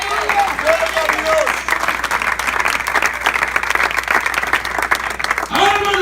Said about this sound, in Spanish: ¿Me aplaude a Dios usted en esta hora?